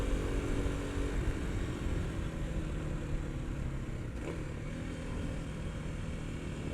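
A 2022 Kawasaki KLX300 SM motorcycle engine on its stock exhaust drones at a steady mid throttle while riding a wet track, with heavy low rumble and wind rush, loud and continuous, no voices.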